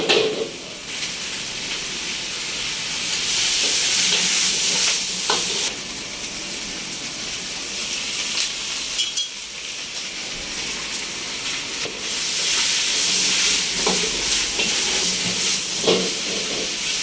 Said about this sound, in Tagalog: Lakas ng apoy kaya mabilis lang maluto.